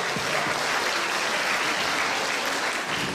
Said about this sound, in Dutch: Geef die eens een applaus.